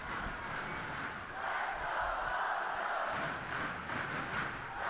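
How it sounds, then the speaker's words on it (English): Volleyball crowd at a San Diego Mojo pro match chanting "Let's Go Mojo," a sustained, loud roar of many voices with rhythmic swells rising and falling throughout, heard alone without commentary. "Crowd getting into it, the Let's Go Mojo chants"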